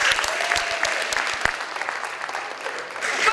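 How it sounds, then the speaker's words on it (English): An indoor audience claps steadily for a few seconds, a dense patter of many hands with a few sharper claps up front, as part of a school performance preview. "Let's give her a round of applause."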